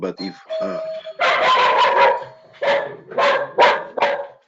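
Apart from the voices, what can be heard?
dog barking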